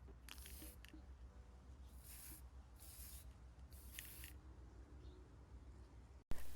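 Aerosol spray of Mr. Super Clear misted onto a doll head in several short bursts of hiss, fairly faint, with a sharp knock at the end.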